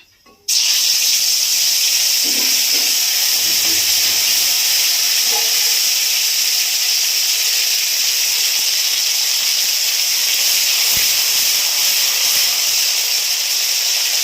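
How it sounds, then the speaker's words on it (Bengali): Cumin paste hits hot oil in a wok while cooking silver carp with potatoes and cauliflower, bursting into a loud, steady hiss that starts abruptly and holds unbroken for the rest of the clip, with a few faint clinks underneath. "আমি কড়াইতে তেল দিলাম আবার। তেল গরম হয়ে গেছে, দিচ্ছি জিরে বাটা।"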